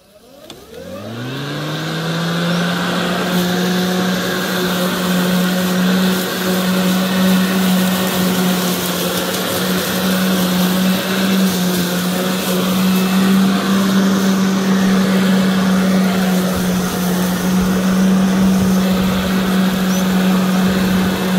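A Makita DLM536 self-propelled lawn mower spins up and runs at full power with its grass catcher fitted, holding a loud, steady whine close by throughout, with no talk.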